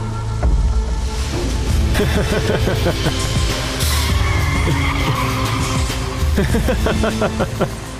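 Car tires skid and squeal as a vehicle pulls away hard in a TV drama scene, a loud rising screech with engine roar running throughout, busy and close.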